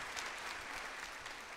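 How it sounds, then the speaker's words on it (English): A church congregation gives a brief round of clapping, a soft, distant patter lasting only a moment. "Can we give a clap offering to God for these folks?"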